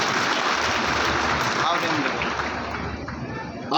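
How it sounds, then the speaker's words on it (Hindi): A crowd claps and applauds steadily and densely at a chief minister's visit to Mandideep municipality, Madhya Pradesh, the clapping sustained at an even loudness throughout. "उनका भी तालियां बजा के स्वागत कीजिए"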